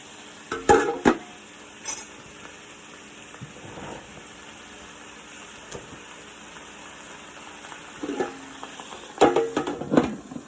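Sliced yellow squash going into a pan with Italian sausage, a few clattering knocks and scrapes of utensils against the pan over a soft steady sizzle, with quiet stretches between.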